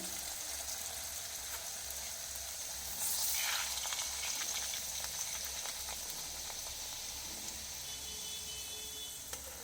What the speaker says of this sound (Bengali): এইভাবে এক এক করে আমি সমস্ত কচুরিগুলো ভেজে নিচ্ছি